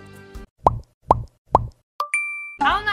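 A plastic lid pressed shut on an instant rice-cake snack container gives three sharp, close snaps at even intervals, followed by a short bright chime-like tone.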